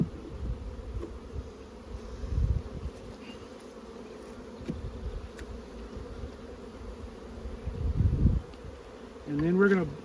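Honeybees buzz continuously around an open hive, a dense droning swarm close by with louder swells as bees pass near, and a sharper whining flyby at the end.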